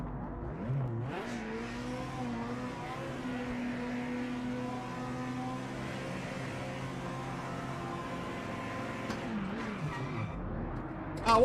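Race car engine in Project Motor Racing revving steadily with shifting pitch, tires squealing through corners and skids, loud and continuous with a brief gear-change dip near the end.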